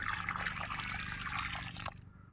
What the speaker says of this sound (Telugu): ఈ చెట్టుకి కాస్త నీళ్ళు